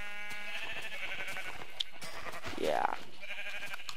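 A sheep bleats in the Minecraft video game, one wavering game sound rising near the end of the clip. A brief spoken word comes just before it, and a steady background tone runs throughout.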